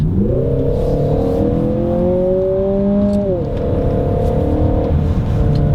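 A Peugeot 3008 GT Line engine in sport mode hums steadily and rises in pitch as it revs, then drops slightly with a shift, a smooth sustained tone heard from inside the car.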